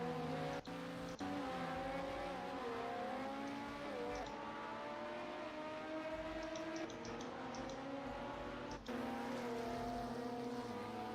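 Audi and Toyota race cars battling in a WEC sim racing game at Daytona: sustained, loud engine whine with gliding pitch shifts as cars shift gears, a steady dense drone throughout with brief dropouts.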